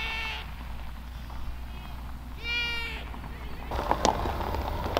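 Goats give two short bleats close by on a farm, separated by a pause, over a steady low engine-like rumble, with some clattering toward the end.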